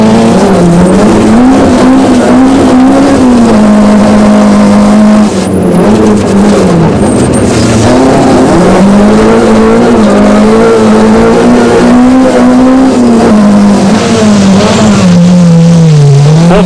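From on board a Total Bridgestone Nissan rally car at the 2001 Rally of South Africa, a loud engine revs and drops through gear changes, with tire and gravel noise close throughout.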